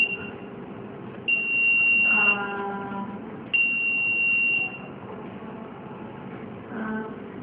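A steady high-pitched electronic buzzer sounds in two sustained bursts over a low hum of machinery.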